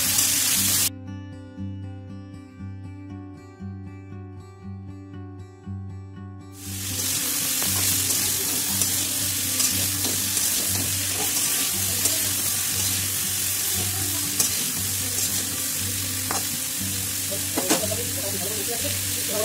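A short pause with a low hum gives way to loud, continuous frying, cauliflower and peas crackling and sizzling in hot oil in a pan with occasional stirring scrapes.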